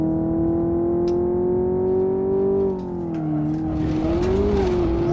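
Car engine downshifting to second gear on a winding mountain touge road, a loud steady engine drone that dips briefly as the gear changes, then rises and wavers again, heard close up with no talk.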